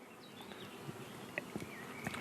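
Aggressive honeybees buzzing around an open hive without smoke, a faint steady swarm drone with scattered closer individual bees passing by.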